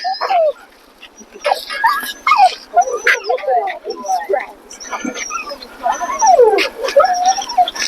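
A dog whimpers, yips and barks excitedly in a row of high, wavering cries, close and loud, at the entrance to a dog park in Balboa Park, San Diego.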